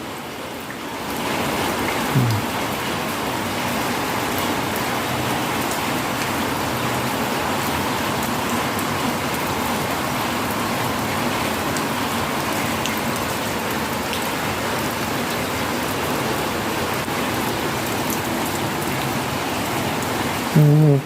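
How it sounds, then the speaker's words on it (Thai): Steady rain pours down continuously on a home vegetable garden, a dense even hiss of drops on surfaces, with no voices. "ฝนตกทั้งวัน"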